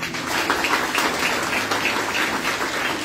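Sustained applause from a graduation ceremony audience at the San Buenaventura official institute, steady dense clapping from a crowd filling the room without a break.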